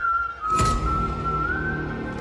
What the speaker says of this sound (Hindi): रात के 12:30 बजे उसे वही सीटी बजने की आवाज आई